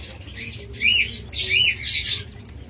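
Pair of tiny king quail in a bird seller's stock calling with three short, sharp high squawks in a steady rhythm, close by over low background noise.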